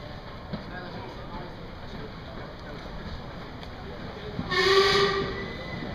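A low rail rumble hums steadily as steam locomotive 45407 The Lancashire Fusilier arrives at platform 3, then a loud whistle-like blast rises near the end, with a faint announcement voice in the background.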